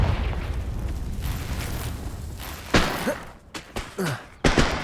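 A Confringo spell blast from the Hogwarts Legacy video game, with a sudden booming burst followed by several sharper crackling impacts and pops in quick succession over a low background rumble.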